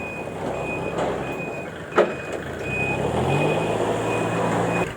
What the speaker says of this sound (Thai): เดี๋ยวมาดูครับฝีมือการถอยสักหน่อย